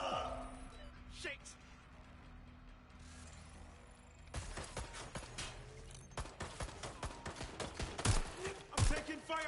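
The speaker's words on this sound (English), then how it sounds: "I'm taking fire!" Gunfire in the video game Watch Dogs Legion, a dense run of rapid shots and impacts that grows busier after a quieter start, with voices shouting in between.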